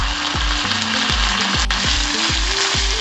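Tomatoes frying with onions in a pan for aloo masala give a steady, loud sizzle, broken by regular scraping strokes about every half second as the mix is stirred. No one speaks.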